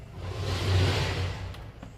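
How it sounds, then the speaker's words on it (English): A low, rumbling engine drone from a garbage truck or heavy construction equipment on a nearby street, swelling and easing over a couple of seconds at moderate distance, with no talk over it. "that noise you hear is either a garbage truck on the next street or construction, some kind of heavy equipment."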